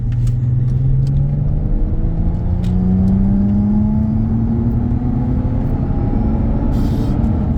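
A car with an aftermarket exhaust modification meant to cut drone accelerates, heard loud and close as a continuous engine rumble whose low tone climbs slowly, with only a faint residual boom and no talking.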